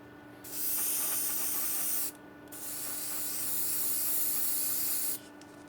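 Two sustained bursts of paint spraying hiss loudly and close by, the first about one and a half seconds, the second roughly two and a half, separated by a short pause.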